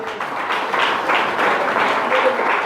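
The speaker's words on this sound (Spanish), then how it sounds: "Aplauso al Señor" Church congregation applauds in praise, a steady wash of many hands clapping at moderate loudness with a faint voice underneath.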